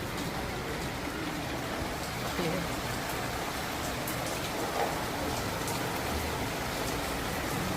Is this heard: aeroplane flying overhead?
no